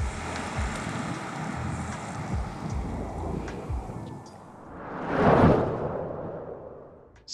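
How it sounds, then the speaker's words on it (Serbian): A Princess S80 motor yacht glides across open sea, a steady wash of water and wind noise that swells into a loud rushing pass midway before easing off. "Samo linija horizonta i brod koji klizi kroz sopstvenu senku."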